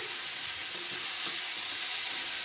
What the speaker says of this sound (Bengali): দেখুন লাউগুলিও হালকা করে ভাজা হয়ে গেছে